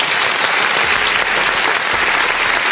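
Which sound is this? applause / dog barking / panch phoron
applause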